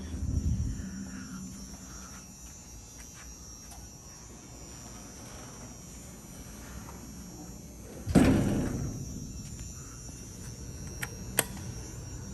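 An old Otis traction elevator in a downtown Houston parking garage: a door thud near the start, then a loud slam of doors closing partway through, over steady machinery hum with a few faint clicks.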